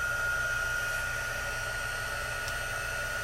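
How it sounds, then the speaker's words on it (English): A heat embossing heat tool running steadily, a continuous airy blowing roar like a small hair dryer with a faint whine, constant and close throughout with no talking. "I'm going to heat up my heat tool. So you're going to hear that getting started."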